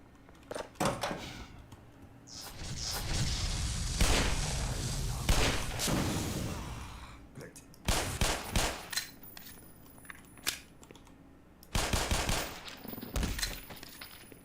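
Gunfire in the Black Mesa video game: sharp bursts of shots, a rapid run around four to seven seconds and further clustered volleys later, loud and close in game audio.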